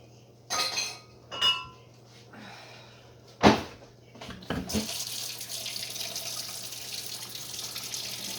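Hot water from a kitchen tap runs steadily into a sink after a few clinks of glass and a cupboard being handled, the water stream starting partway through and continuing to the end, close and moderately loud with no talking.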